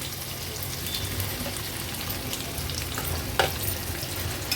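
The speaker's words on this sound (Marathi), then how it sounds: "कांदा तेलामध्ये छान परतून घ्यायचा आहे" Chopped onion and green chili frying in hot oil, a steady close crackling sizzle with faint stirring scrapes and no talking.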